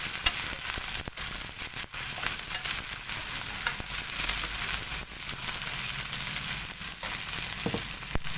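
Okra (bhindi) with spices fries in a pan with a steady, loud sizzle. A spoon scrapes and stirs through it now and then, with occasional crackles.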